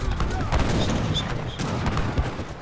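Gunfire from units being sniped in an Age of Empires III 2v2 match, dense repeated shots and booms forming a continuous busy battle din throughout.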